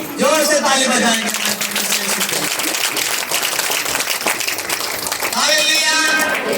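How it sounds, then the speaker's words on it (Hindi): A church congregation claps loudly during a Hindi-language Christian morning prayer service. Steady, dense applause fills the middle, and a voice rises over it at the start and end. "जोर से ताली बजाएंगे।"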